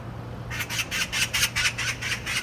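A crow calls close by in a rapid run of about eight harsh, rhythmic caws after a brief quiet start, loud and clear with no talk over it.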